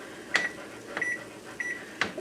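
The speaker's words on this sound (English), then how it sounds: "I'm going to start my husband some rice in the microwave." Four short high beeps from a microwave oven being set to cook rice, evenly spaced about two-thirds of a second apart with faint key clicks, close and clear in a quiet kitchen.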